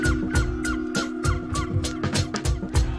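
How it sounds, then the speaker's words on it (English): A seagull-like call in an album track, repeated honking cries at a steady rhythm over a sustained tonal drone, clear and prominent. "A seagull? Why?"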